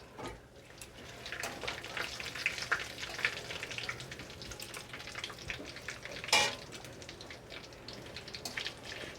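Whole cinnamon sticks, green cardamom pods and cloves fry in hot oil for a jackfruit prawn curry, giving a steady crackling sizzle with a few brighter pops throughout.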